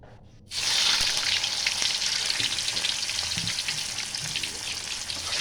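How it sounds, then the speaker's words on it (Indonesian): Tofu and marinated tempeh fry in hot oil: sizzling and crackling loudly and steadily after a brief quiet start, a continuous dense frying hiss with scattered pops, close by. "minyak sudah panas, saya mau goreng tahu sama tempe yang sudah dimarinasi ya."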